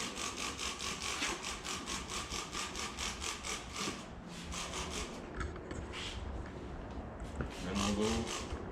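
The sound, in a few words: scrubbing a tank and skid plate during coating prep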